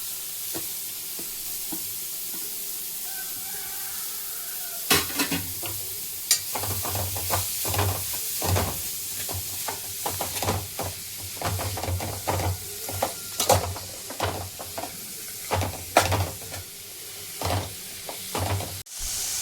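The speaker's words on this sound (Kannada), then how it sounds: "ಇದಕ್ಕೀಗ ಕಟ್ ಮಾಡಿ ಇಟ್ಕೊಂಡಂತಹ ಎಲ್ಲ ವೆಜಿಟೇಬಲನ್ನು ಹಾಕಿ ಫ್ರೈ ಮಾಡಬೇಕು" Chopped vegetables for momos hitting hot oil in a pan, a constant close sizzle with repeated scraping and knocking stirs through most of the stretch, no talking.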